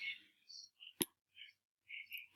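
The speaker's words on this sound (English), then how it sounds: "Click Next Step." A single sharp mouse click on an on-screen Next Step button while setting up an online peer-review assignment, heard close and alone between brief faint voice fragments, with a second click at the very end.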